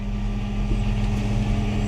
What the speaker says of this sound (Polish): ja dodaję sobie ten gaz nożny no i maszyna nam przyspiesza.